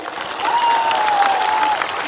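An outdoor political rally crowd at Astabal Ground breaks into loud, dense applause, a steady wash of clapping that lasts about two seconds with a faint whistle riding over it.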